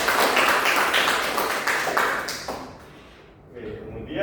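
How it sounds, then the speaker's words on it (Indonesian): A burst of applause from students in a classroom, loud and dense at first, then thinning and fading after a few seconds. "Boleh dikasih tepuk tangan?"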